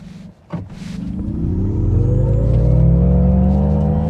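An MG Cyberster launches at full throttle, a brief click and thump giving way to a loud rising drivetrain whine and rumble that climbs steadily in pitch as it accelerates hard.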